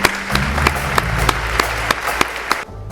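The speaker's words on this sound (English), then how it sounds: "let's give her another round of applause for that" Applause at a Pine Bluff Rising monthly community meeting, a fairly small group clapping with a few distinct sharp claps standing out, steady for a few seconds before stopping abruptly.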